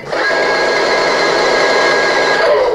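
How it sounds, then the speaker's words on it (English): A tinny electronic machine-gun effect for the Gatling guns buzzes continuously from the speaker of a Mattel Justice League 6-inch Ultimate R/C Batmobile toy, a loud, steady rattle running for a few seconds. "it sounds like machine gun fire."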